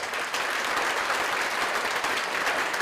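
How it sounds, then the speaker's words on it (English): Attendees at a school board meeting give students a round of applause, a dense, even wash of clapping that stays strong throughout. "If you could please join me in giving these students a round of applause."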